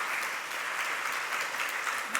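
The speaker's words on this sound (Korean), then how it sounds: "우리 박수로 환영하겠습니다" Church congregation at a Sunday service claps to welcome a newcomer, a steady, moderately loud patter of many hands throughout, with no talking.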